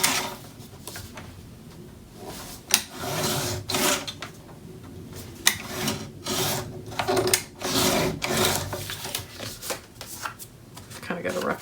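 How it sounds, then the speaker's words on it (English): Paper for a Stamperia Make a Wish mini album being trimmed, with a run of short rasping strokes and scrapes close by, irregular in rhythm, and no one talking over it. "it's a little too big, so I'm going to trim a smidge off"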